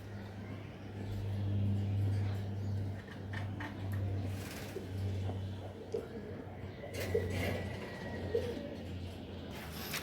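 Racing pigeons coo repeatedly in soft, low throbbing calls, close and fairly quiet, with occasional rustles and faint traffic noise in the background.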